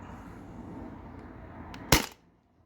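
A modified Sabre 68 HDL paintball marker running on a CO2 tank fires a single sharp, loud crack that cuts off quickly, after a low steady hiss of background noise.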